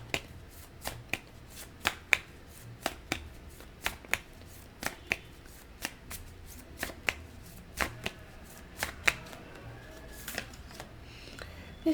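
Tarot cards handled and shuffled by hand: a steady run of crisp, close snapping flicks, roughly one or two every second, over a quiet background with no talking.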